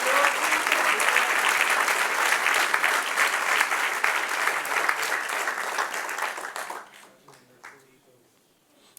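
A church congregation applauds at a Spanish-language sermon, a dense, loud wash of clapping that holds steady for about six seconds, then thins and fades to scattered claps and near quiet.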